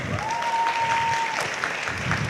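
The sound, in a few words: audience applause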